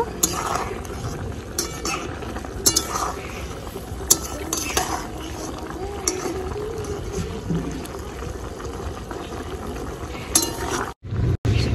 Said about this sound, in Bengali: আস্তে করে নাড়া দিব।